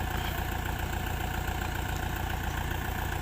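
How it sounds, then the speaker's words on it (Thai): A Kubota tractor engine runs steadily during a mud recovery, a continuous low droning rumble that holds at an even level throughout, with no speech. "รถไถ เสียงเครื่องยนต์ดังขึ้น"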